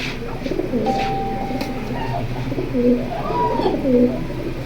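Pigeons cooing in a loft, including a large silver male pigeon, with repeated soft rolling coos at close range over a steady background hum.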